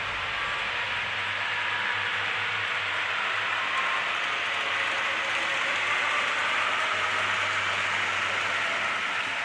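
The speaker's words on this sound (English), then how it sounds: "The train's currently coming through the tunnel that separates our two rooms" An HO scale model train runs through a tunnel between two rooms of a model railroad layout, giving a steady, continuous mechanical whir with faint clicking and a low hum throughout, with no talking.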